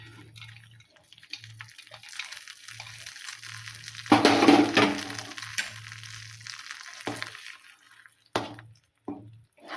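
Fried cashews, almonds and raisins tipped from a pan into a pot of Sankranti huggi, giving a sudden burst of sizzling and splashing midway, then softer clinks of stirring over a steady low hum, with no talking.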